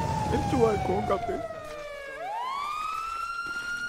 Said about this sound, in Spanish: Apaguen esa sirena, por favor.